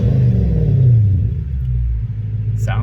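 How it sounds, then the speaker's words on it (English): A car engine, running after an ECU replacement, gives a close, low rumble that swells as if revving and then settles back toward idle, with a short hiss near the end. "Idle is not jumpy, or you know, when you give it the gas, it's not real jumpy."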